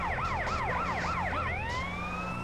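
Wailing ambulance siren from the video game GTA San Andreas, sweeping up and down in rapid repeated cycles, loud and close, then shifting into a steady rising tone as it passes, with engine rumble underneath.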